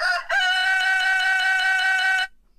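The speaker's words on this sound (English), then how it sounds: "I've got the rooster sample with a little loop running near the beginning of it." A rooster crow sample held on a Reason NNXT sampler key, one loud, steady, sustained crow with a looping pulse that cuts off sharply on release.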